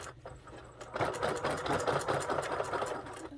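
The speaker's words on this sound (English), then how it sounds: "I'm just going to sew over top of the pocket" A sewing machine stitches over the thick pocket of a pair of jeans during a rip repair, starting after a brief pause with a loud, rapid, steady chatter of the needle close by.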